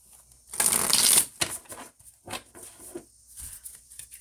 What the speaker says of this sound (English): I'm gonna go ahead and pull your oracle cards when it comes to love.